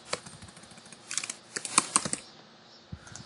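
Option key pressed on a Mac keyboard alongside mouse clicks, an irregular cluster of sharp, close clicks and taps in a quiet room.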